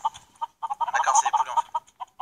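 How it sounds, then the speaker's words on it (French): Chickens cluck in a video game: short, repeated clucking bursts that thicken into a louder, busier flurry at the middle, then thin back out to scattered single clucks. "D'accord, c'est les poulets en fait."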